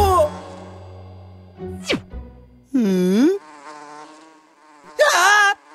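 Cartoon bees buzzing in a few loud, wavering bursts, with a shorter drone in the middle and no talking.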